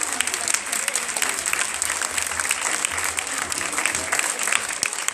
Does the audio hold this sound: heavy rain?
no